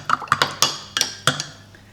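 A spoon clinking against a glass while stirring an apple cider vinegar drink with honey and cinnamon, about half a dozen bright taps at an uneven pace, each ringing briefly and fading, close and clear with no speech.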